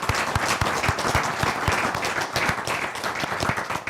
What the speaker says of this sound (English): And a big round of applause to all of our candidates tonight.